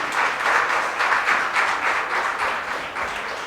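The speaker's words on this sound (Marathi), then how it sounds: "खूप जोरदार टाळ्या वाजूया आपण तिच्यासाठी." A hall audience at a Marathi literary society gathering in Chembur, Mumbai, applauds a young singer. The clapping is steady and dense and fills the whole stretch, with no voices over it, and it tapers slightly toward the end.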